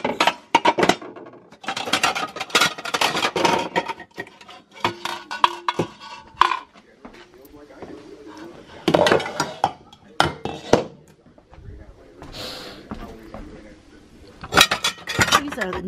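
Pots, pans and dishes clatter and clink in irregular bursts as cookware is sorted and handled in a home kitchen, metal knocking against metal at close range, with occasional speech between the handling.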